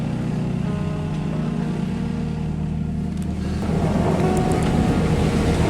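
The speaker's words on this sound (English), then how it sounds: "Engine at idle and 2-to-1 scope in the chain." Steady low drone of a sailboat's engine idling while the anchor is lifted, a continuous rumble with wind and water wash around it, growing a little louder and rougher partway through, no voices.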